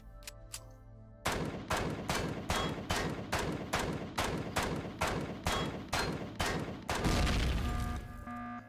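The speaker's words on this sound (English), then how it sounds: "I'm just going to shoot this out." In Empyrion Galactic Survival, a gun fires at a ship core in steady rapid bursts of loud, sharp shots, about a dozen evenly spaced. A heavier blast and rumble follow near the end.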